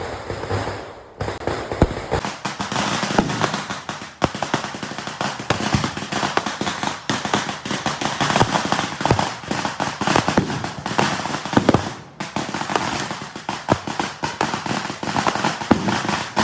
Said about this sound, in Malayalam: ഒരു വെടിക്കെട്ട് പോലൊക്കെ തന്നെ